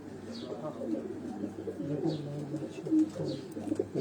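Lal Badshah cross pigeons coo softly on a rooftop, with low repeated murmuring coos close by, several faint chirps and light background noise.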